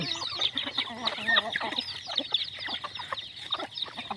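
Chickens clucking and chattering continuously, many overlapping calls nearby, busy and unbroken, with no talking.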